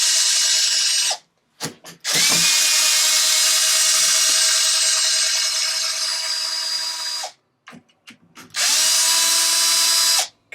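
A power drill unscrews chassis bolts on a BigRock, Vendetta or Mega Infraction RC car. Three long, loud whirring runs are separated by brief stops and short bursts, close up and with no talk.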